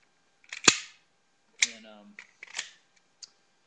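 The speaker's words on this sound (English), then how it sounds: "I racked the slide and then I ejected the mag." A Glock 36 .45 Auto pistol gives a sharp metallic clack as the slide is racked, then a rattling slide of the magazine being ejected and a few lighter clicks, close and clear.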